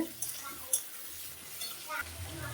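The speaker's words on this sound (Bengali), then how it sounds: "চিংড়ি মাছগুলো বাজা বাজা হয়ে গেছে এখন আমি লাউগুলো দিয়ে দিলাম" Prawns fry in a pan with a soft hiss and light stirring scrapes, then bottle gourd goes in near the end, bringing a louder low rustle; quiet and close, with no talk.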